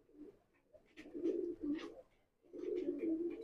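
A pair of beauty pigeons coo softly in a cage, low throaty rolling calls in two bursts, close by and fairly faint.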